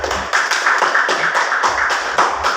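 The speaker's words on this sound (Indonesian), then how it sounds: "silakan kasih tepuk tangan buat kelompok 1 biar tambah semangat" Classroom applause for a student group, a short burst of brisk, fairly loud clapping from several people lasting a couple of seconds.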